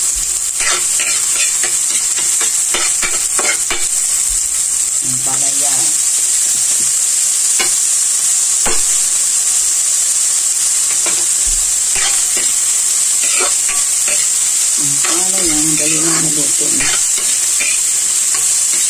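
Bitter gourd (ampalaya) being stir-fried in a pan, with steady close sizzling and repeated scraping, clattering stirs of a utensil against the pan throughout.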